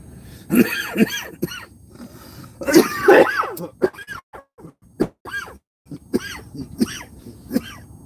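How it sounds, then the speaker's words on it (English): A run of harsh, raspy coughs and throat-clearing after taking a dab comes in repeated bursts with short gaps, close and loud, no talking. "Yeah, I'm about to cough."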